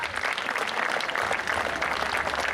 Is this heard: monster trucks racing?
no